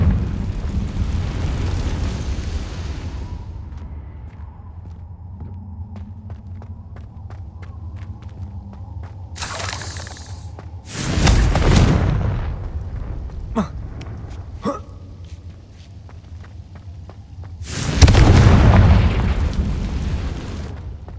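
Confringo blasting spells fired in Hogwarts Legacy, several heavy booming explosions spaced apart over a low rumbling ambience, with small crackling pops and scattered footstep-like taps between the blasts.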